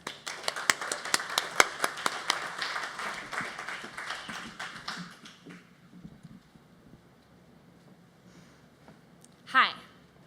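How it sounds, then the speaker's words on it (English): An audience claps for a student speaker at a community talk, with dense, busy applause for about five seconds that thins out, followed by a quiet stretch and a brief louder sound near the end. "let's give a round of applause to Kate"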